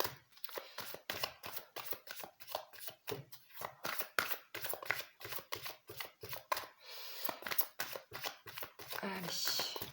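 Tarot cards shuffled and dealt by hand in a rapid, steady run of crisp riffling flicks and snaps that carry on throughout, close and fairly quiet, with a voice talking at times alongside.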